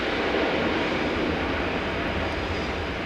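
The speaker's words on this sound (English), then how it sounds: "Fred Strongman then, into land, the Airbus A400M, the Atlas." An Airbus A400M Atlas turboprop transport aircraft coming in to land makes a loud, continuous broadband roar that holds steady throughout, with no voices.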